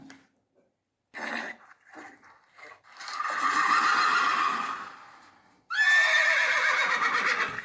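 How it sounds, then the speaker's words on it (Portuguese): A horse neighs and whinnies in loud, close, drawn-out calls, a short burst followed by two long rising whinnies separated by a brief gap. "É o cavalo."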